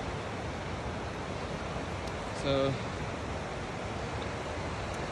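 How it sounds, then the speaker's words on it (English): The river at Taughannock Falls, New York, rushes over flat rock in a steady, broad hiss of flowing water, constant and fairly close, with someone briefly speaking over it. "the river is coming down"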